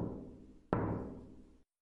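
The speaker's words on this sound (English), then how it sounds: "knock at the door." A single sharp knock sounds partway through, set against a low, steady background hum that fades out shortly after.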